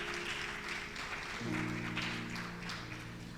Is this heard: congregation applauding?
yes